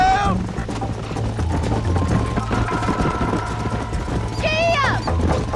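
Horse hooves gallop in a Red Dead Redemption game scene, a steady rhythmic clatter under a continuous music bed, with a voice calling out near the end.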